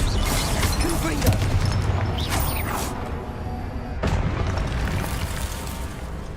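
Confringo explosive spells cast in Hogwarts Legacy during a duel, heard as a few loud booms and bursts over a dense, busy bed of combat effects.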